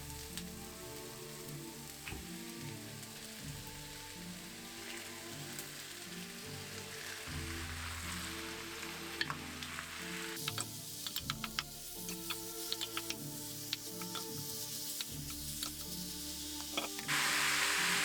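Onions, shallots, garlic and meat frying in fat in a pan for an ancient Babylonian stew, a soft steady sizzle with scattered ticking pops, heard under background music and without speech.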